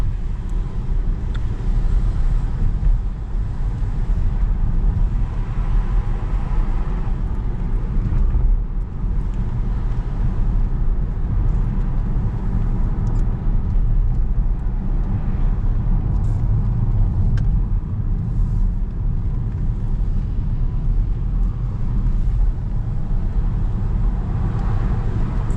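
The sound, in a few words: Saab 9-5 car driving on the road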